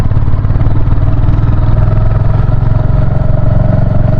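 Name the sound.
Royal Enfield Hunter 350 motorcycle climbing zigzag mountain road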